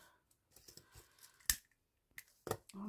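Scissors snip through gold-edged ruffle ribbon during headband crafting, two sharp distinct cuts spaced about a second apart, close and clear against a quiet background with faint handling noise.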